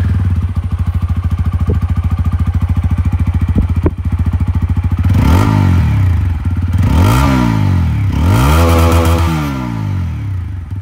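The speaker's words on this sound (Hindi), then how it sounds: "चलिए अब मैं आप लोगों को यहाँ पर जो एग्जॉस्ट साउंड है वो सुना दूं ऑफ अपाचे 164V" A 2024 TVS Apache 160 4V motorcycle with a bullpup exhaust idles with a steady, fast thumping pulse, then revs up three times in rising and falling bursts, loud and close with no talk.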